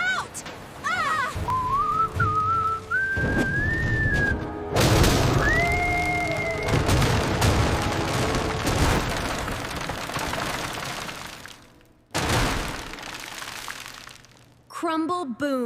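A giant cartoon vending machine crashes and crumbles in a series of booming impacts and rumbling debris, mixed with whistling slide effects and excited cartoon voices shouting.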